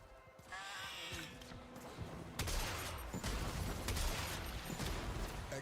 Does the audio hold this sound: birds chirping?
no